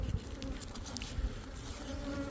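Honey bees buzz continuously during a beehive inspection, a close, steady droning hum with a few individual bees whining past, and no one speaking.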